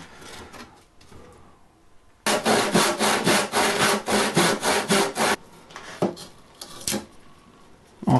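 Hand saw cutting a large chunk out of pallet wood, a loud, close run of rhythmic back-and-forth strokes lasting about three seconds, followed by quieter scraping and knocks on the workpiece.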